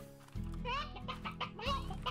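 Chickens cluck in the Slime Rancher video game, a run of short, close bird calls over a steady low hum of game music.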